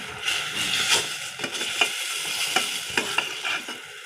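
Fish heads frying in a pan, sizzling hard while a utensil repeatedly scrapes and knocks against the metal in quick, uneven strokes, close and fairly loud, with no voices.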